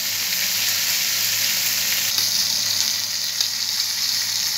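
Thick duck breast searing in a pan, a loud close continuous sizzle with bright crackling spatters and a brief sharper pop midway, steady throughout with no voices.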